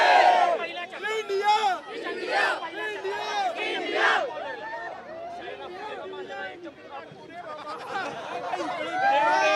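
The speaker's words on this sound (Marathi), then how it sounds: "मोठ्या प्रमाणात जल्लोष या ठिकाणी सुरू असल्याचं पाहायला मिळतंय" A crowd of cricket fans on FC Road, Pune, celebrates India's win over Pakistan with loud cheering, shouting and chanting voices overlapping in a lively, sustained din.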